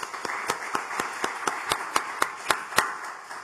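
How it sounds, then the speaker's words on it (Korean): A church congregation claps in a slow, steady rhythm, about a dozen distinct, evenly spaced hand claps at moderate volume over a soft background wash. "박수 한번 해주시죠"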